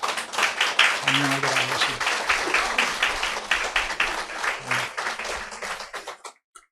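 A church congregation applauds in a steady burst of clapping that fills the room and fades out at the end, while someone speaks over the start of it.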